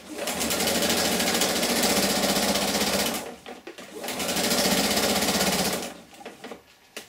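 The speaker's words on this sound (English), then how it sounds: "And you take it to your machine and you sew that seam again, just 1/4 inch." Sewing machine stitching a quarter-inch quilt seam with a little backstitch, a loud steady whirring run of about three seconds, a brief pause, then another sustained run that slows and stops near the end.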